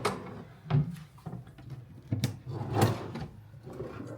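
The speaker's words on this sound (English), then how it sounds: "we got some drawers here for storage or something" A drawer in a rental flat in Kenya slides and knocks shut a few times, with soft wooden thumps and rattles against a dim room background.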